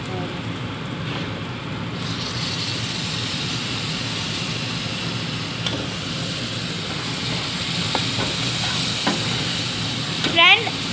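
Tomatoes hit a hot pan of karela gosht cooking with red chilli, giving a steady, loud broadband sizzle throughout. A few clinks of stirring come near the end.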